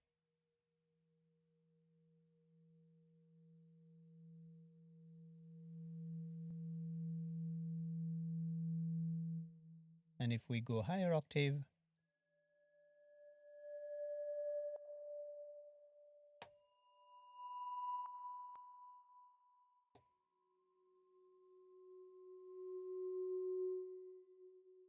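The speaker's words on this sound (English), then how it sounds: "let's check out mallet reverse, which is actually the sound of mallet in reverse" Reversed-mallet synth patch from the PS Khagan instrument: pure, soft tones that swell slowly in loudness and cut off, one note after another at different pitches, broken once by a short harsh burst, with a voice speaking briefly.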